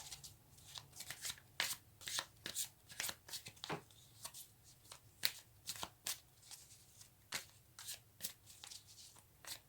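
A deck of tarot cards is shuffled by hand, soft and quiet, with rhythmic riffling slaps and sliding card sounds in quick irregular bursts, with no talking.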